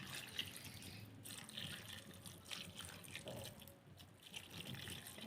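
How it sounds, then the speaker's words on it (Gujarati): About two glasses of water poured into a cooking pot for a spicy whole cowpea curry being made outdoors on a farm, a continuous splashing gush heard up close and fairly quiet, without speech. "આ બે ગ્લાસ જેટલું પાણી નાખ્યું"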